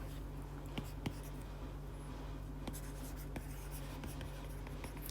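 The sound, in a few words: writing with pen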